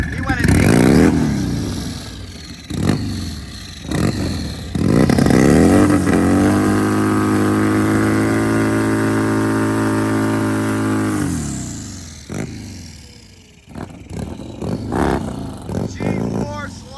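A turbocharged 320 hp Harley-Davidson Road King drag bike at a Pro Bagger drag racing event roars through a long, loud, sustained run before fading, with an announcer talking over it and crowd noise around.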